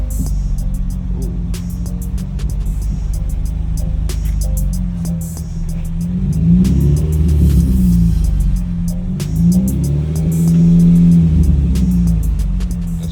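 Deep, loud exhaust rumble from a 2011 Honda Accord with muffler and resonator removed, swelling in two blips of revving from a steady idle, heard close with scattered clicks.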